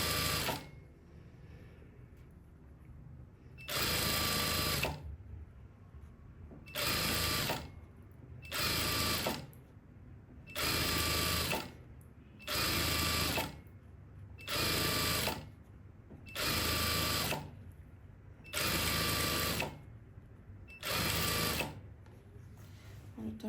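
A sewing machine stitches a narrow hem on a kimono in about nine loud, even bursts of rapid whirring, each a second or two long, with quiet pauses between them and no talking.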